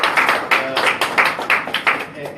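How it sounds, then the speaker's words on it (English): Audience applause at the CFE Arena at UCF, a burst of clapping with rhythmic peaks that rises and fades over a couple of seconds, heard close and fairly loud. "But before you go, just one more round of applause."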